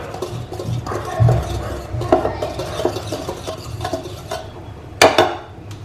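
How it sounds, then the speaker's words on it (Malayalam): Cake batter ingredients are mixed in a bowl with a hand whisk, producing irregular clinks, taps and scraping knocks against the bowl, close and moderately loud, with no speech. "ഇനി ഇതുപോലൊരു ഹാൻഡ് വിസ്ക് കൊണ്ട് നമുക്ക് നന്നായിട്ടൊന്ന് മിക്സ് ചെയ്തെടുക്കാം."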